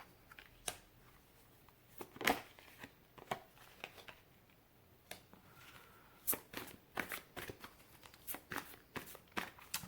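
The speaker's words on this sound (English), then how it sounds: "Let's get a couple more cards out here." Tarot cards being shuffled and drawn nearby: scattered short papery flicks and snaps in irregular bursts, quiet overall with no speech over them.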